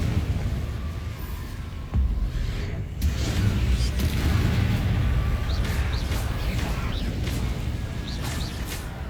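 Confringo spell explosions in Hogwarts Legacy: a sudden boom and rumbling blast followed by a sustained roar of combat noise with faint whooshes, loud and continuous.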